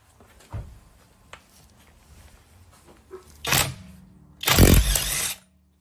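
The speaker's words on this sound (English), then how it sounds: "So we're going to be loosening some lug nuts on my tire." A Feihu cordless impact wrench loosening lug nuts on a car tire: two loud, rattling bursts of hammering, the second longer, after a few faint clicks and handling noises.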